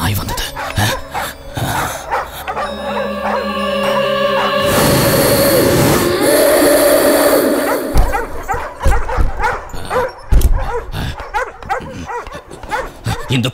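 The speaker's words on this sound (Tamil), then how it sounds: "இந்த பாண்டியனோட கோட்டைக்குள்ள எப்படி நாய்கள் வந்தது?" Several dogs bark and yip inside a fortress, a steady run of barks at moderate loudness under swelling music and background film sound.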